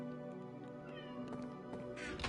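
A pet cat named Aslan meows faintly over a steady background hum, with a brief louder cry near the end.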